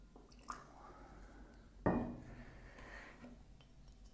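Water is poured into a preheated red clay kyusu teapot: a soft clink near half a second, then a louder splash and a brief pour that trails off into quiet dripping, close up with no talking.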